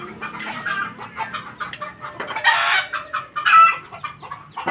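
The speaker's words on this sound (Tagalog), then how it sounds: "Nagkaingay na naman ang manok." Several chickens clucking and squawking nearby, with rising agitated bursts and short cackles overlapping in uneven rhythm.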